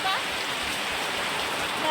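Dense, steady patter of rain falling on a surface, a continuous hissing wash with no breaks.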